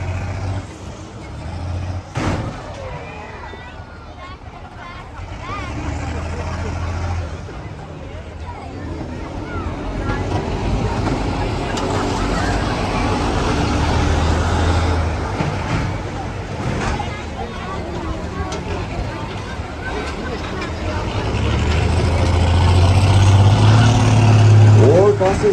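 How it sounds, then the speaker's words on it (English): School buses grind and collide in a demolition derby at Merrittville Speedway, heavy engines revving and roaring, with occasional sharp metallic impacts and a crowd murmuring beneath, the engine noise swelling louder toward the end. "that Doug Crawford Parkway towing bus right into the back of the Rona Deutsch bus"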